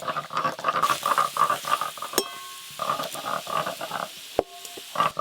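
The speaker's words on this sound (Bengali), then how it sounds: "এইভাবে নাড়তে নাড়তে পেঁয়াজ কুচিগুলো একটু নরম নরম হয়ে এলে মশলা মাখানো খাসি মাংসগুলো দিয়ে দেবো।" Chopped onions and spice-marinated mutton stirred in a hot pan: close, repeated scraping strokes over a steady sizzle, with two sharp metallic clinks of the utensil against the pan.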